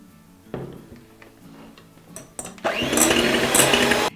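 Electric hand mixer whirring through egg whites with powdered sugar, starting with scattered light taps and then rising at about two and a half seconds into a loud, steady, bright motor whine that holds to the end.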